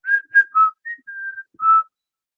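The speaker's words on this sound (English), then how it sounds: "We did hear whistle actually." Clear whistled notes during a paranormal investigation: three quick chirps, a short pause, then a held tone and a final note, close and isolated against silence.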